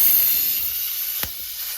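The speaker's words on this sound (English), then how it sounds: "I had to cut there and grab some pliers to pull the valve out" Air hissing steadily out of the tube of a new front tyre on a 1974 Bolens HT20 garden tractor once the valve is pulled with pliers, a broad, even rush fading slightly with a brief tap near the end.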